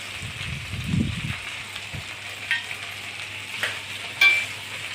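Okra and green peas sauté in oil in a pan, with a soft, crackling sizzle broken by a few sharp scraping clicks from stirring.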